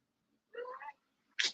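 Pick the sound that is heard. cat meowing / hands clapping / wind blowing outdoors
cat meowing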